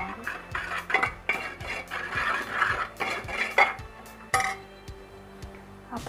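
A spoon stirs rice with red chilli and turmeric in a pot, giving repeated scraping and clinking strokes at a steady rhythm, fairly close, with no talking.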